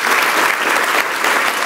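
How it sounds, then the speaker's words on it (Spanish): A church congregation bursts into loud, dense applause that stays steady and close throughout, with no voices breaking through. "dele un aplauso a Dios con todo su corazón"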